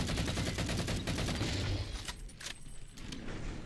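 Rapid sustained bursts from an MA5 assault rifle in Halo 4, dense and loud at first, then thinning into choppier fire with scattered impacts.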